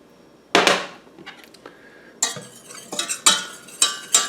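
A whisk scrapes and clinks against a pan as a flour roux cooks, in irregular bursts of metallic stirring with short pauses between them, close and fairly clear, with no talking.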